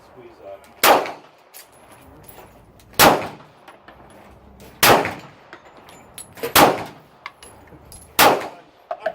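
Hudson H9 pistol fired at a range, with five loud, sharp reports spaced about two seconds apart, each followed by a short ringing decay, with faint background noise between shots.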